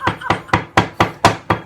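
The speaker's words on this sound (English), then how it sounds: "pounding hammer for the meat." Beef steak being pounded with a meat hammer for Filipino bistek, seven sharp, evenly spaced thwacks at close range, each a solid knock with a short decay.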